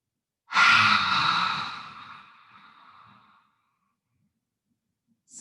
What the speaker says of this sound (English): Big inhale. Exhale, tongue out.